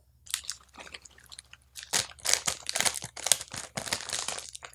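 A package of original Oreo cookies is being opened up close: bursts of crinkling, crunching plastic wrapper with uneven rustles and tearing, loud and alone without any voices.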